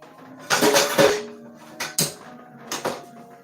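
Dishes and pans clattering during kitchen cleanup while cooking skillet-fried spiced potatoes, a cluster of close metallic clanks followed by two or three sharper separate knocks.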